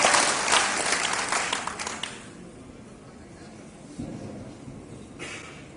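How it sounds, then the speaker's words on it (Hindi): An audience at a public gathering in India applauds to welcome a district panchayat president, loud dense clapping that fades quickly after two seconds, leaving scattered claps and background murmur. "जोरदार तालियां बजाकर उनका स्वागत वंदन अभिनंदन किया जाए"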